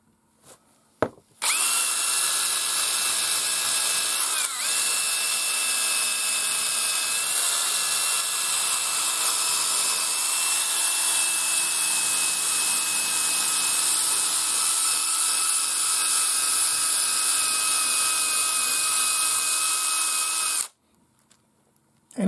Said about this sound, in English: I'll put a finer wheel on here and we'll go over it again.